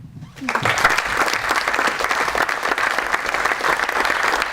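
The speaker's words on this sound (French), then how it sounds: "nous pouvons les applaudir généreusement, ils le méritent bien" An audience at an apprentices' automotive maintenance competition final in Rodez gives generous applause, a sustained, even roar of clapping that starts abruptly and holds steady throughout.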